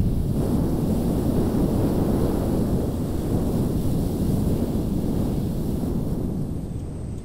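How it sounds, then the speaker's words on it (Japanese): Typhoon wind roaring over a farm field in August, a dense, continuous low rush buffeting the microphone without letup, easing slightly at the very end. "台風がやってきました。"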